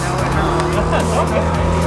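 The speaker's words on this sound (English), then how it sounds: "Let's hear the exhaust." A Lamborghini's engine and exhaust drone loudly and continuously with a deep rumbling note, close by, while people talk over it.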